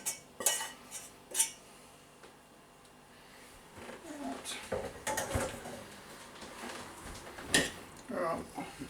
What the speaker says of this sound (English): give that a stir to incorporate it all